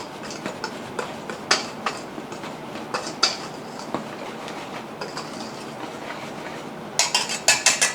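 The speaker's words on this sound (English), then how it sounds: "get your wire whisk and make sure that you mix the baking soda, the salt, and the flour together" Wire whisk scraping and clicking against a bowl while mixing baking soda, salt and flour for chocolate chip cookies, a steady close run of light metallic taps with a louder burst of clinks at the end.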